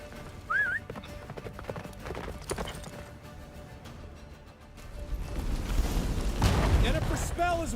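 A horse gallops in The Witcher 3 video game, rhythmic hoofbeats running throughout alongside game effects, with a surge of louder wind-like noise and a whinny toward the end.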